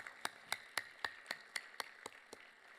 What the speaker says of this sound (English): one more round of applause for our deans and for yourself